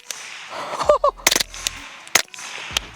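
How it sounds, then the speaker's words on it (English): Suppressed rifle shots fired in bump-fire bursts outdoors, sharp cracks in quick clusters with a few isolated reports between them, loud and close, with brief voices heard around the shots. "We got to bump fire the rest of them."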